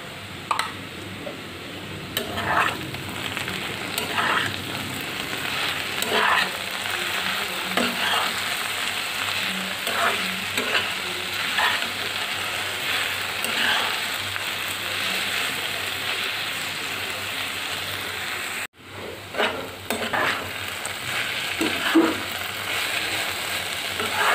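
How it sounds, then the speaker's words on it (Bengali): Okra frying in a pan with green chili and salt, a steady close sizzle and crackle of hot oil punctuated by repeated scraping clinks of a spoon stirring, with a brief pause near the end before the stirring resumes. "আমি ভেন্ডিগুলো নেড়ে সেড়ে ভাজি করে নিয়েছি"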